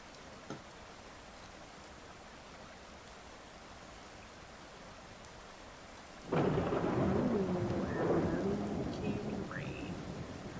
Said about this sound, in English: we can go ahead and let the rain do its thing